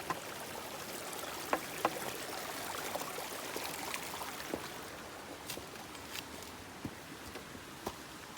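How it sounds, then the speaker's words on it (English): A small creek runs over jumbled rocks in a wooded Alabama state park, making a soft, continuous trickle and gurgle with occasional faint splashes and clicks. The water is quiet and steady, with no voices. "A little bit of water running through here."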